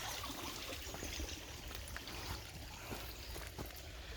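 Water runs off through a drain into a woodland pond, a steady soft trickle and gurgle, faint and continuous, with outdoor background noise.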